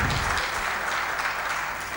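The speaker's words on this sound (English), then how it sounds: "Big round of applause for Ms. Kristina." A convention audience in Lahore applauds a speaker at the end of a business session. The clapping is a continuous, even wash of many hands, moderately loud, lasting about two seconds with no talk over it.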